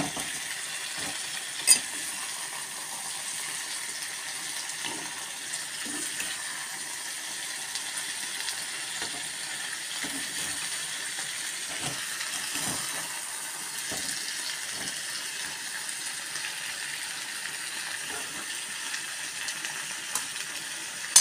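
Masala sautés in a pan with a faint, steady sizzle and light scattered clicks and scrapes of stirring, quiet and continuous throughout.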